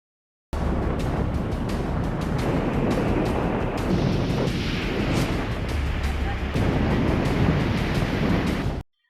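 High waves churned up by Cyclone Shakti slam against the Gujarat coast in a dense, unbroken roar with heavy wind rumble, loud throughout until a sudden stop.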